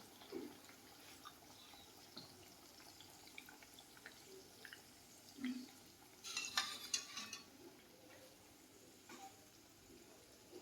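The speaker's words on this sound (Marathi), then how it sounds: "मंद आचेवरच तळून घ्या, तरच तो छान भाजला जातो" Bhatura dough frying in hot oil on low heat, a soft steady sizzle with faint bubbling and occasional light clinks and stirring noises, quiet and close throughout.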